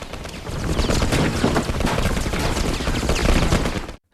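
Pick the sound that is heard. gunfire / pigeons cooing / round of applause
gunfire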